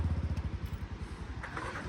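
A motorcycle idles close by in a rough, rapid pulsing rhythm, being wheeled out and readied during a weekend picnic get-together at Dudh Koshi, with a faint brighter rattle near the end.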